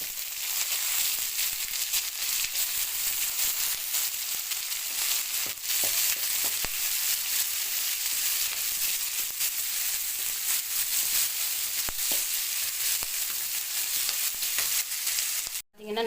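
Onion and garlic sautéing with curry leaves and dal in a pan for avarai bean poriyal, a steady close sizzle running throughout with occasional scraping stirs and a brief clunk at the very end.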